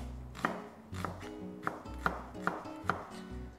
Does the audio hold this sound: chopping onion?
yes